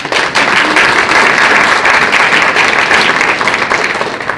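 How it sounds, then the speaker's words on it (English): Steady, dense applause from a crowd, loud and continuous throughout without any talking. "give a round of applause to the Carver Hill community"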